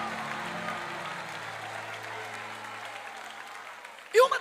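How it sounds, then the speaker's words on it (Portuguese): Church congregation applauding during a Pentecostal service in Ceará, a broad steady wash of clapping across the room, with low hum beneath and a louder burst near the end. "Alguém recebe e declara um aplauso a Jesus por aquilo que Ele faz."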